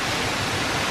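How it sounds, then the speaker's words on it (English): Steady, dense broadband roar of falling water near a waterfall at Yellowstone, constant and loud with no voices. "Ariana, what are your thoughts on the waterfall here?"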